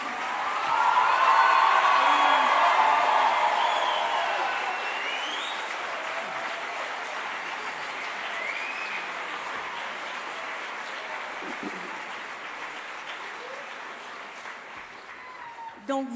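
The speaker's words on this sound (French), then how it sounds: "crois que vous pouvez encore les applaudir." A concert audience at a high school performance applauds the performers, a strong burst at the start that settles into long, steady clapping with a few faint cheers.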